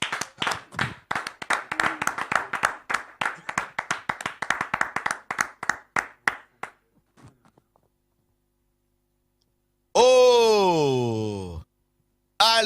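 A church congregation clapping together in a brisk, loud run of claps that slows and dies away after about seven seconds; silence follows, then a loud sung or shouted voice near the end.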